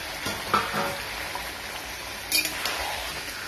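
Chicken fries in a yogurt spice masala in a pan, a soft steady sizzle with occasional stirring scrapes and a sharper clatter near the end, close and fairly quiet with no speech.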